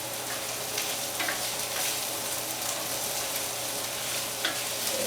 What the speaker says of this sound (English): You want to make sure that that rice is sauteed thoroughly.